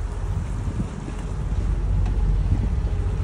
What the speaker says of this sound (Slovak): Tak sme sa rozhodli pre pirátsku loď a ide sa na ostrov.